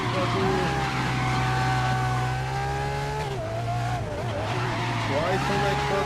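Race cars in the Grid 2019 video game drone steadily through a high-speed corner, the engine pitch dipping and climbing with a tonal edge that hints at tire squeal, while someone talks over it throughout.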